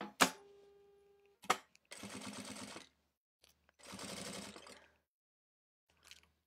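A sewing machine stitches along a seam in Santaflex felt, running in two distinct bursts of rapid mechanical chatter, each about a second long. Clicks and short knocks from handling the machine come before and after the runs, with no talk.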